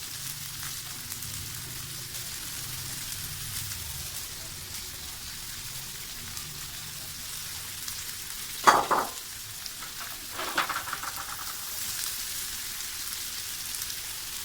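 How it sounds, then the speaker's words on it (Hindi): Chopped onions sautéing in a pan for stuffed karela with minced meat, a steady soft sizzle and crackle throughout, with a couple of louder scraping or stirring bursts near the end. "प्याज को अच्छी तरह हमने फ्राई कर लेना है"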